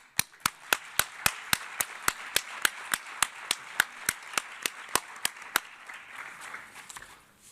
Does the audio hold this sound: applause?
yes